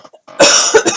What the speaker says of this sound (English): I'm going to cough, I'm sorry.